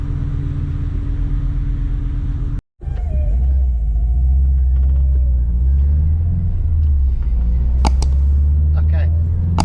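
A car being driven produces a steady, loud low engine rumble that fills the cabin, broken by one brief silent gap near the start before resuming continuously.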